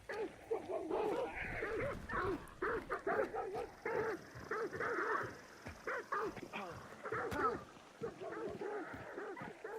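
Dogs barking and yipping repeatedly in the video game Hunt: Showdown, a rapid, fairly close series of barks under steady talk from players.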